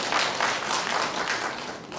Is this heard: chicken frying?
no